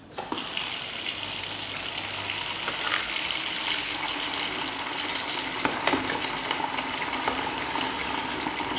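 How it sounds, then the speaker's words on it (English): Hot tap water pours steadily into a sparge water container beside a 10-liter Braumeister homebrew system, a close continuous gushing hiss that never lets up. "I'm just going to add hot tap water and some boiling water to it."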